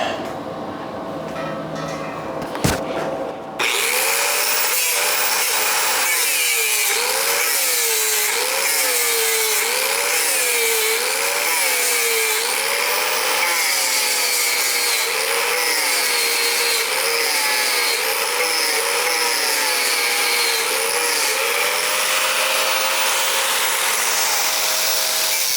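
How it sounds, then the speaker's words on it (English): Angle grinder grinding down metal on a homemade body panel dent puller, a loud continuous whine with wavering pitch that starts abruptly after a few seconds and runs steadily to the end. "Let me get my grinder, and I'm just going to grind it down a little bit."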